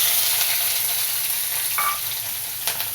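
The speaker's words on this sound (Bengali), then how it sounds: "আমি এখন কচুরমুখী রান্নাবো, এর জন্য জিরা দিলাম তেলে। জিরাটা কালো হয়ে গেলে এখন কাঁচামরিচ পেঁয়াজ দিব।" Onions and green chilies fry in hot oil with blackened cumin seeds, giving a close, steady hiss of sizzling with a couple of brief scraping stirs.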